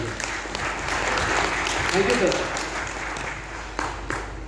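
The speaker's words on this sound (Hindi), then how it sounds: "एक बार सर पंडा सर के लिए चाहूँगा शानदार ताली बजाइए।" Audience applause for Panda sir at an indoor business meeting in Delhi, a steady mass of clapping that carries on throughout while someone speaks briefly over it.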